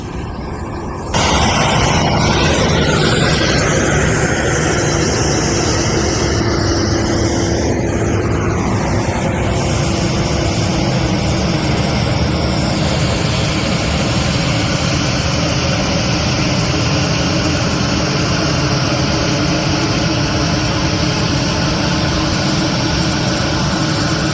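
An NFL team airplane arrives and taxis, a loud, steady jet engine roar that starts abruptly and holds for the whole stretch, near and continuous with no talk.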